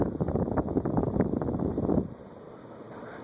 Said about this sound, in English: Yeah, I don't get any bearing noise at all. I get wind noise.